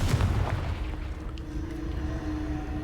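A Confringo spell explosion in the Hogwarts Legacy video game gives a sharp booming burst, then a rumbling decay that fades over a few seconds.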